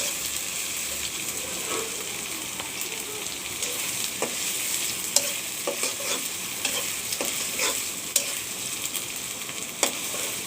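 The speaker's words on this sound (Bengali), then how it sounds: "আদা রসুনটা একটু ভেজে নিতে হয়, না হলে গন্ধ করে তরকারিটা।" Ginger and garlic fry in a pan: a continuous close sizzle under regular stirring scrapes, with a few sharper taps of the utensil against the pan.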